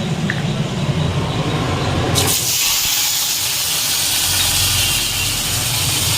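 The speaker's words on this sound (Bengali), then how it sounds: "শুধু আজকে সর্ষেই ফোড়ন দিলাম" Mustard seeds tempering in hot oil for a sour dal, a loud steady sizzling hiss that swells sharply after a couple of seconds and holds on continuously.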